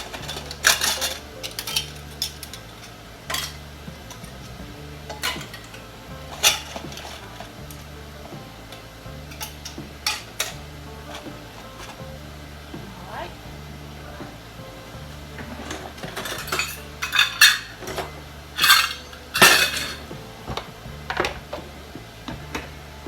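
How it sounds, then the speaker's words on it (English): Metal canning lids and flat caps drop into a pot, irregular clinks and clatters, some single and some in quick clusters, close by over a low steady rumble. "I'm going to drop my lid and my flat caps"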